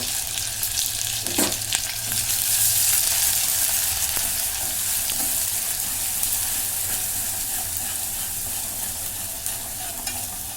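Cumin seeds sizzling in hot oil in a pan, a steady dense crackling hiss that holds close and loud throughout with slight swells and no talking.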